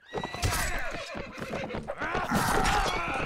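Horses in a strategy video game whinny loudly and repeatedly over a busy battle din of hoofbeats and clashing, with layered neighs overlapping close together.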